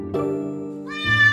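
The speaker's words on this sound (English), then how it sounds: "Cry all you want, spooky kitty." A cat meows loudly in two drawn-out cries, the second rising higher and more strained, close and alone with no talk.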